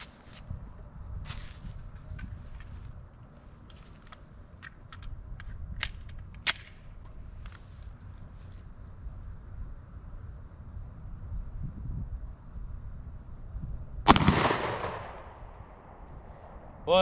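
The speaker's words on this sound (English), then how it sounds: "that's got some muzzle blast" Glock 29 10mm pistol firing full-power plated loads: one loud sharp report with a decaying tail near the end, after several faint clicks and handling noises over low background rumble.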